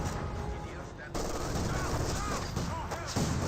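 Infantry gunfire in Company of Heroes 2, shock troops trading shots with Grenadiers: continuous crackling small-arms fire with bursts and a sharp jump in intensity midway, dense and fairly loud throughout with a commentator talking over it.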